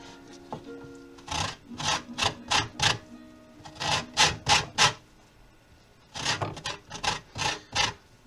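Citrus peel is zested on a grater over a cutting board in a home kitchen, making quick bursts of raspy scraping strokes in three groups of several rhythmic passes, close and distinct, with no talk.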